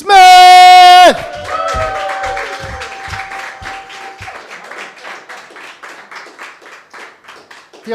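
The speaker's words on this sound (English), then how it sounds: "Please give a loud round of applause for Larry Smith!" Audience at a stand-up comedy open mic applauding comedian Larry Smith, scattered moderate clapping and a few cheers that fade over several seconds, following a loud sustained musical tone at the start.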